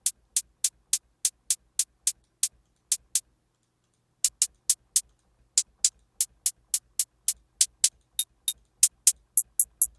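Synthesized hi-hat built from noise presets ticks in short, crisp, bright bursts, playing a quick repeating pattern with a brief pause partway through before resuming at a steady clip.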